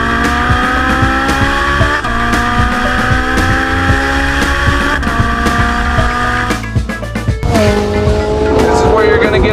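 A sports car engine roars steadily at high revs on a race track, with gear shifts and a rising pitch as it accelerates past 120 mph, loud and close throughout.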